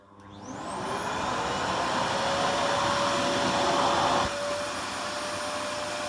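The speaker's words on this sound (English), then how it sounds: "this is what it sounds like when it goes on the floor," An AEG Ultracaptic Deluxe vacuum cleaner starts up and runs on a floor with a steady, even motor roar and a high whine, close by, with no talking.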